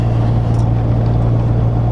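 BF Goodrich Mud Terrain T/A KM3 tires rolling on pavement: a steady low tire hum and road drone heard from inside the vehicle, constant and fairly loud with no talk.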